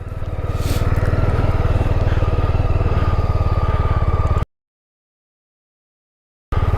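A motorcycle engine runs steadily on Magnetic Hill near Leh in Ladakh, a loud, close, throbbing drone that holds for about four seconds, then cuts to silence before briefly returning.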